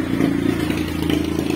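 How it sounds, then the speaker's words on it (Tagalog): A steady, fairly loud mechanical hum with faint clatter from a Honda Beat FI V1 scooter, which has a misfire and backfire fault, as its fuel pump runs after the ignition is switched on, no talk. "So yung fuel pump, papakinggan natin yan mga bro kung umaandar, no?"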